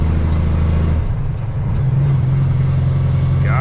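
An old Peterbilt truck rumbles loud and close, its deep engine note dropping and rising again as it shifts gears, with a brief hiss near the end.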